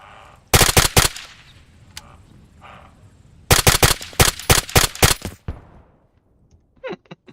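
.50 cal gunfire in a video game: two long bursts of rapid, loud shots, the first brief and the second lasting about two seconds, separated by quieter stretches and followed by a few faint distant pops.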